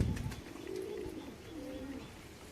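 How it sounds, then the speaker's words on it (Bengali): Domestic pigeons at a home loft coo softly in low, rolling phrases, two drawn-out calls following a few brief knocks at the start, faint and close with no talk. "বাড়ির কবুতর ভিজিট করছি মাদ্রাসি।"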